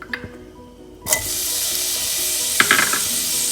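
Onions hit hot ghee in a heavy-bottomed saucepan over medium heat and burst into a loud, steady sizzle after a second of quiet. A few utensil clinks and stirring scrapes sound over the frying.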